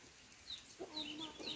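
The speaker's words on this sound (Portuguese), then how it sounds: "Lá está a galinha, com os pintinhos" A hen clucks with her small chicks on a rural family property. Short, soft clucks repeat near and alone, with high thin peeps over them.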